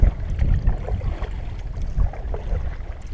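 Wind gusts buffet the microphone in steady low rumbling bursts while paddling a new canoe on open water near a dam, with faint paddle and water sounds underneath and no talking.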